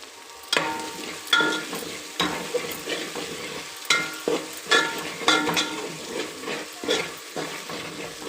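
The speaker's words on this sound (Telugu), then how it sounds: "బాగా ఫ్రై అయినాక అందులో పచ్చిమిర్చి కరివేపాకు వేద్దామండి ఇదిగోండి పచ్చిమిర్చి వేస్తున్నాము" Green chillies and curry leaves sizzle and spit in hot oil in a pan, stirred with repeated scraping strokes, close and steady throughout.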